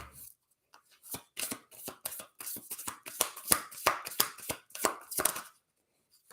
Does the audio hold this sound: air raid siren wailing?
no